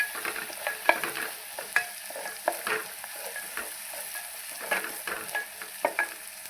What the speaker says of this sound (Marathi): कोथिंबीरचे देठ, खोबऱ्याचं, लसणाचं वाटण घालून घेणार आहे. ते पण चांगलं तेलामध्ये असं परतून घ्यायचं.